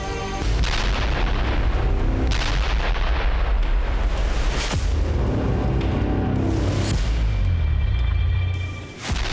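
Heavy, continuous rumbling blasts and deep booms, several big explosions rolling one into another, loud and dense throughout before cutting off.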